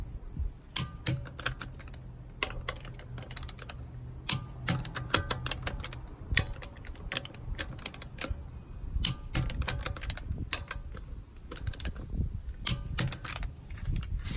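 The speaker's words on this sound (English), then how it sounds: "Just to hear the sound of the click there for you." A torque wrench in a tool collection produces sharp mechanical clicks, heard as repeated crisp, close ticks with a few short rattling bursts, set against quiet background noise.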